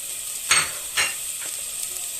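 Mushrooms and onion sauté in a hot pan during the making of a creamy mushroom pasta, with a soft steady sizzle broken by two short scraping stirs close by.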